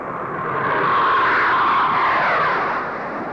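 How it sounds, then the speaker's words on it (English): An A-6 all-weather attack bomber jet passes in flight, a loud steady roar that swells toward the middle and eases off, heard alone without speech. "An all-weather attack bomber like the A-6 can handle itself pretty well"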